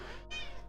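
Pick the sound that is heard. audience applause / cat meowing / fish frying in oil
cat meowing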